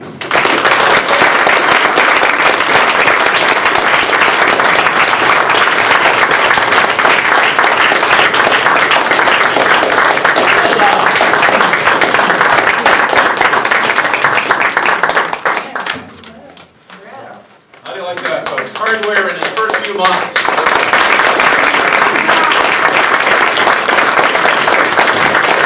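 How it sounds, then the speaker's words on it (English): A speech contest audience applauds a third-place speech evaluation winner with loud, sustained clapping that dips briefly near the end, then swells again. "please applaud Peter Russell."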